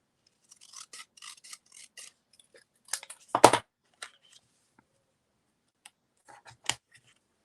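Scissors snip through card for homemade valentine cards in a handful of short, dry cuts, quiet and close, with a sharper clack partway through and pauses between.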